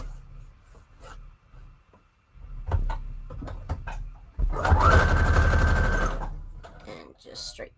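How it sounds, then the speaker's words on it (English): Sewing machine straight-stitching across paper scraps for a guest-check embellishment: scattered small taps and handling noises, then a close, loud, steady mechanical whir running about two seconds before stopping, with a person speaking briefly around it. "And just straight stitch that."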